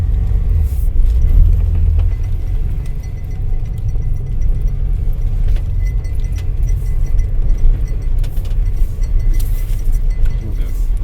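Dad's old 4x4 truck, back on the road after fifteen years with tires leaking air, rolls around the block with a steady low engine rumble and road noise filling the cabin, plus occasional jingling rattles.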